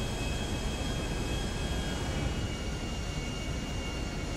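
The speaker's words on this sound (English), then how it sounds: "Cool little plane." A small airplane's engine in the GTA 5 video game, a steady, even drone that holds at a moderate level without pause, with no talking.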